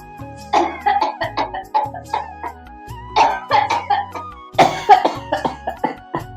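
A man with a heavy tuberculosis-like cough hacks repeatedly in several harsh bursts, close and loud, with wheezy gasps between fits.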